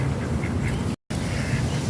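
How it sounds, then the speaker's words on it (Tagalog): Several ducks quack loudly and continuously close by, with a brief silent gap in the middle. "Ang daming pato rito sa lobo."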